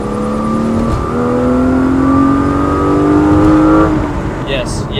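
A BMW E36 323i inline-six engine with an M50 intake manifold accelerates hard, its pitch climbing steadily for a few seconds before the throttle lifts and the whine drops away.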